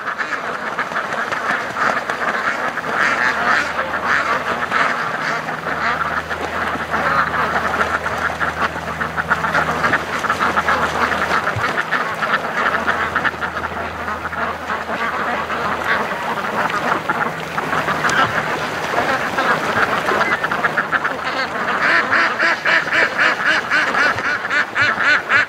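Ducks at a lake quack in a loud, continuous chorus close by, overlapping calls rising and falling throughout.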